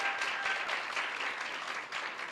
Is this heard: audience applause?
yes